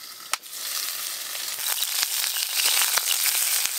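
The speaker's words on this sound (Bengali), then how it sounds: "সব বেগুনগুলো আমি হালকা করে ভেজে নিয়েছি, তুলে নেব।" Small garden eggplants fry lightly in hot oil, giving a steady close sizzle and crackle, with a sharp clatter near the start and a few soft pops and taps over the hiss.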